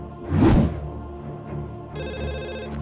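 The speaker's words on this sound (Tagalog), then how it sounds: "dahil sa ring ng kanyang telepono" A telephone rings in a film motel-room scene. A muffled thud is followed by a steady electronic ringtone that starts partway through and keeps going, bright and continuous over a low background score.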